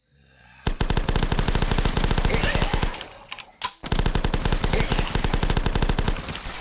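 Rapid automatic UMP-45 fire in the Flash game The Last Stand, loud sustained bursts of closely spaced shots with a brief pause midway before firing resumes.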